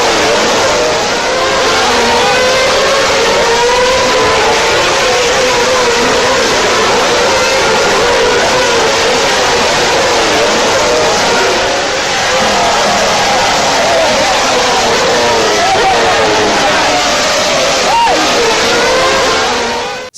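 Formula 1 race car engine, Mark Webber's car, a loud continuous high-pitched engine howl with shifting revs throughout, dense and steady with crowd or ambient noise beneath.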